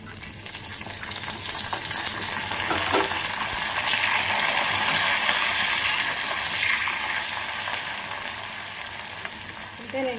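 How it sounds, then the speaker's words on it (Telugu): A tempering of sliced onions, dried red chilies and curry leaves sizzling in hot oil, with a loud, continuous crackle close up that swells in the middle and holds for about ten seconds. "ఇప్పుడు కరివేపాకు వేసేసుకుందాము"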